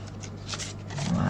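Paper creased along its folds with a bone folder while making a heart-shaped ingot gift box, giving a close, steady dry rubbing and scraping that builds slightly louder toward the end, with a voice talking underneath.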